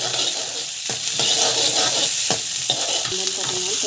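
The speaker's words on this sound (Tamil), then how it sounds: "ஆயில் போட்டு நல்லா வந்து காயிடும். ஸோ அப்புறமா வந்து பார்த்திங்கன்னா இதில் வந்து கொஞ்சமாக வந்து சீரகம் நல்லா வதங்கிடும்." Cumin seeds frying in hot oil in a pan while cooking a potato and pea kurma: a steady, close sizzle with a few soft stirring scrapes, no voices.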